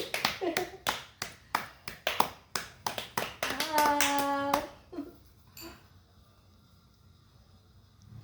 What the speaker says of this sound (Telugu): క్లాప్స్ కొట్టు, క్లాప్స్